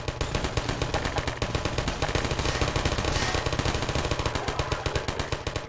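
Automated sentry turrets in Half-Life 2 firing a steady rapid stream of shots, dense machine-gun rattle that runs unbroken for several seconds, loud and close with no talk.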